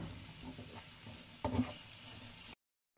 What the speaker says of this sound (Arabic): دابا زدت الكفته ونبدا نخلط